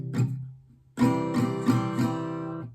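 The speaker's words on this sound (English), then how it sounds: "That's how it sounds without palm muting" Acoustic guitar chord strummed open, without palm muting, for a song: a soft stroke, then a full ringing strum with several follow-up strokes, bright and sustained, close and alone.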